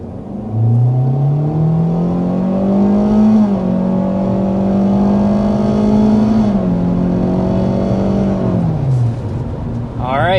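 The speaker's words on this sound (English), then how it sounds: "we want to go ahead and start with a hard acceleration" A 2025 Kia K4 car accelerates hard to 60 mph, its engine note climbing steadily as it pulls through the gears, with two brief dips at the shifts, loud and close from inside the cabin.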